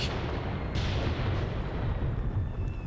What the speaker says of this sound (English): And we're getting some artillery.